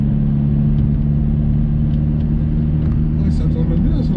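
A Hyundai i30N with its 2.0-litre, 275-horsepower engine holds a loud, steady rumble from inside the car, with people talking over the drone.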